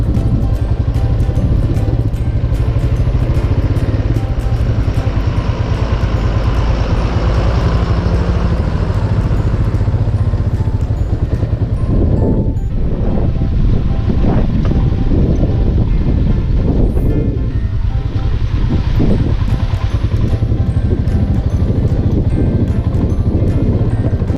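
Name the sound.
Royal Enfield Himalayan motorcycle riding on mountain road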